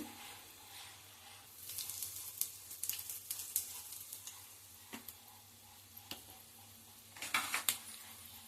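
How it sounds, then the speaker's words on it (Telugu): Tempering spices, curry leaves and asafoetida crackle and sizzle in hot oil, with intermittent sharp pops and a few spoon clinks against the pan, fairly quiet. "తాలింపు వేగిందండి"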